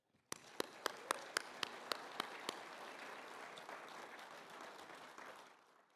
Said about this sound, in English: I really want to give all our student entrants a round of applause